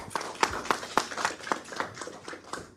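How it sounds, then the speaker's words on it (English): Brief audience clapping at a Tableau user group talk session in Singapore, a sparse run of separate hand claps at a steady rhythm rather than a full ovation, moderately close and fairly quiet. "let's give Louis a round of applause."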